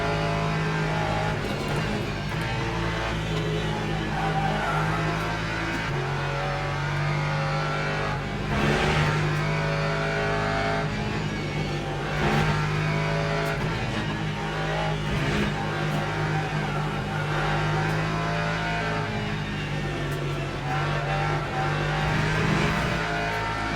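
Race car engines in a Le Mans Ultimate sim race, including a Ferrari, a continuous loud drone of revving and shifting engines, with rises as cars accelerate close by and no talk.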